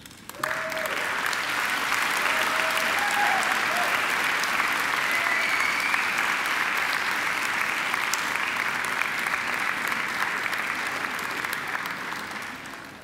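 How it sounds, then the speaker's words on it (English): A graduation ceremony audience gives a long, sustained round of applause for the graduates' families and friends, steady dense clapping filling the hall for about thirteen seconds before tapering slightly. "And now I invite you to give them a mighty round of applause."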